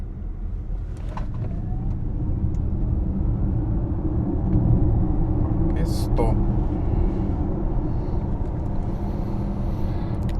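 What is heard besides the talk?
electric car accelerating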